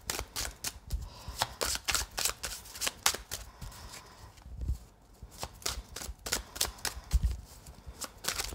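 A deck of many playing cards being shuffled, giving repeated crisp riffling bursts and flicks in an uneven rhythm, close and fairly loud, with a brief pause midway and no talking.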